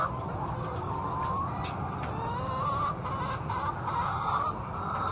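Chickens cluck steadily inside a chicken house with roosts and supplemental feeders, a dense continuous flock chatter at close to medium range with occasional louder individual calls.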